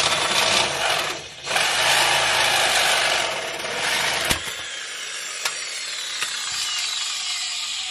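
A Sawzall reciprocating saw cuts through a torsion bar bolt on a minitruck, a loud continuous harsh buzzing rasp up close, with a brief dip and a few sharp metallic snaps toward the end.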